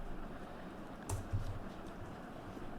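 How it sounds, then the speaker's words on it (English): Soft keystrokes on a computer keyboard while typing into the Windows 10 search bar, a brief faint cluster of clicks midway through a quiet stretch, with no talking. "go to the search bar over here and type Video"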